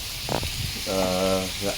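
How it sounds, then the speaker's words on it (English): Pork sizzles steadily in a hot pan, close up, frying for an apple, potato and pork casserole, with a few short tonal sounds rising over the hiss. "So while the pork is frying"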